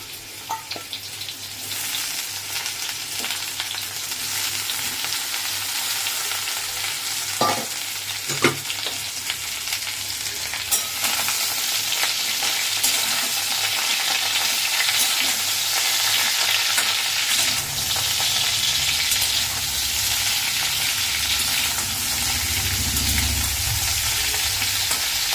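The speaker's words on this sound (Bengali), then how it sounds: "এই যে মা ভাজছে" Potatoes and drumstick (sajne) stalks fry in a pan for a spicy mustard dish, giving a steady loud sizzle with occasional clinks and stirring scrapes, and the frying deepens and thickens near the end.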